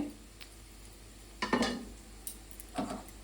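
Fried prawn pakoras tipped into a bowl in a home kitchen, giving two short clattering bursts of pieces and utensil against the dish over a faint background hiss.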